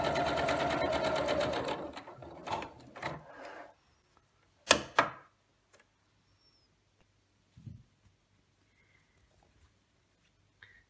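Domestic sewing machine stitching cotton fabric for a reversible face mask: a short dense whirring run at the start, then a few brief bursts and clicks amid quiet pauses, close and fairly soft.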